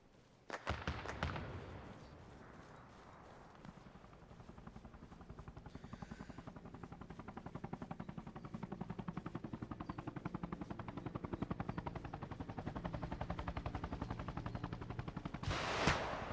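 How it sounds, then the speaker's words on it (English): A helicopter gunship approaches in a war setting, its rapid rotor thumping building steadily from faint to loud over the clip, with a few sharp bursts resembling gunfire at the start and end. "Another gunship coming in."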